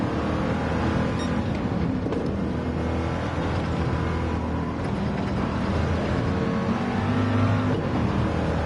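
A Ford Mark IV race car engine drones loudly and steadily in Gran Turismo 7, shifting through gears with the factory transmission, with no break in the engine noise.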